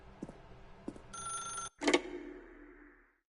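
Telephone ringing in the video game The Stanley Parable: a single bright electronic ring tone sustained for about half a second, a short gap, then a louder clanging burst that fades out.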